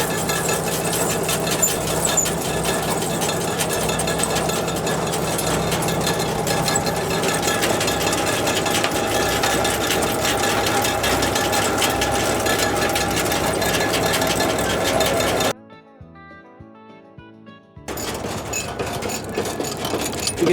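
A manure spreader's machinery runs with a loud, continuous mechanical clatter and whir as its gear-driven mechanism pushes forward, cutting out briefly near the end to a faint hum before resuming.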